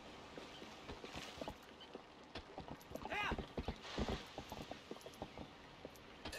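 Horse hooves clip-clop at a steady trot in the video game Zelda: Twilight Princess, a quick rhythmic patter of hoofbeats with soft game ambience underneath.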